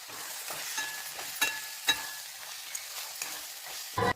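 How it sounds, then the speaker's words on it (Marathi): Ground masala paste sautéed in oil for Kolhapuri-style misal, a soft steady sizzle broken by scraping stirs at an uneven rhythm, close by and fairly quiet, with a louder clatter near the end. "आता हे वाटण टाकायचं. तेल सुटपर्यंत परतून घ्यायचं."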